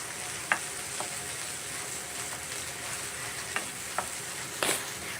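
Rendang is stirred in a frying pan, a low steady sizzle with a few soft scraping clicks spaced irregularly and no voices.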